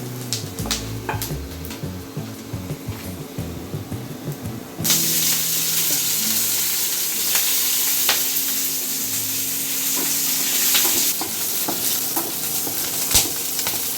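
Onion frying in a pan until dark, a continuous loud sizzle that swells sharply a few seconds in and holds, with occasional clinks and scrapes of stirring over the hiss.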